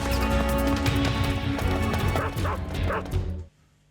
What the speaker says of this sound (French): je vois les chiens qui nous rattrapent